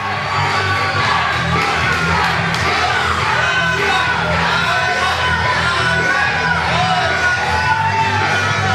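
A loud wrestling arena crowd cheers and yells continuously, with whoops and shouts rising from a dense, sustained roar of many voices.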